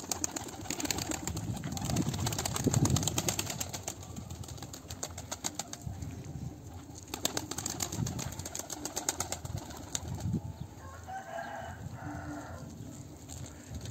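Young racing pigeons flap their wings in a loft, bursts of fluttering wingbeats over a steady background hum with occasional soft cooing, fairly close and without speech.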